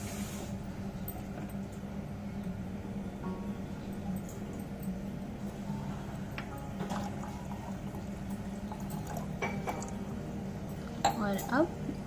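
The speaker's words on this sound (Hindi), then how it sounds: "1 गिलास पानी लिया है मैंने, और इसे मिक्स कर लेंगे अच्छे से" Water pours steadily into a cooking pot of jeera rice in a home kitchen, a continuous medium-loud splashing under a speaking voice, with a few sharp metal clinks near the end.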